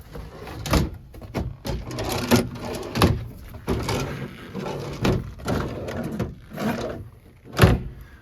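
Cabinet doors along one side of a 2000 Coachman Catalina 330 RV open and close in a quick series of sharp knocks and thumps, each a close, distinct bang spaced about half a second to a second apart.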